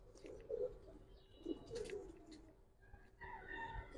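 Giribaz pigeons coo faintly at close range, a few soft throaty coos amid quiet background noise with other faint bird sounds toward the end.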